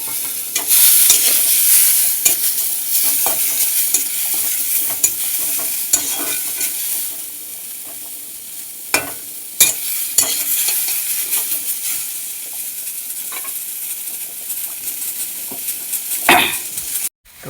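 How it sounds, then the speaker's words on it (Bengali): Onions frying in a pan give a continuous bright sizzle, loud and close, with repeated scraping and clinking as a utensil stirs them against the pan, and no talk. "এবার পেঁয়াজগুলো আরে দিবে।"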